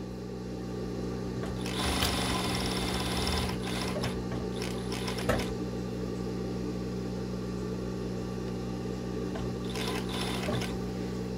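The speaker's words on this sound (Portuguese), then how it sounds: "Eu coloco a costura da renda no pique. E aí eu venho costurando, ó." A sewing machine stitches lace onto white panties in short, close bursts of rapid mechanical whirring, with the busiest runs early and near the end and a steady low motor hum between them.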